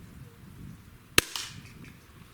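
Single sharp crack of an air rifle shot hitting a shotgun shell target, followed by a brief metallic ping, against quiet outdoor background.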